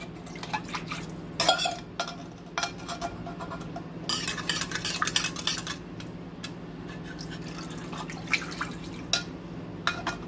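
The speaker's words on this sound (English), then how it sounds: "And then you just take the knife, stir it around." A knife stirs soup in a dish close up, with scattered clinks against the sides and wet tapping, over a low steady hum.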